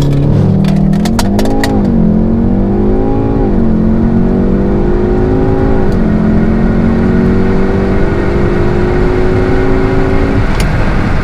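Volkswagen Golf R accelerating hard from a standstill, engine note climbing steadily through several gear changes, loud and close from inside the car, continuous throughout with no talking.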